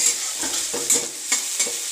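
Onion stirred in a pan over a high gas flame, a steady bright sizzle broken by several scraping stirs at an even pace, close and fairly loud with no voices.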